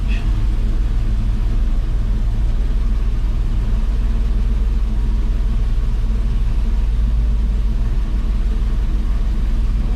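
Farm truck at a Kansas corn harvest with the PTO engaged, its engine running steadily as the hydraulic hoist raises the bed, giving a loud, continuous low rumble throughout.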